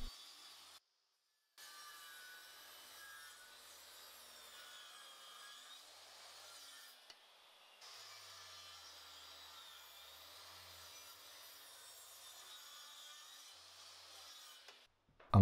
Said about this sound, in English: I set the saw up at 45 degrees. Now I can get the first cut made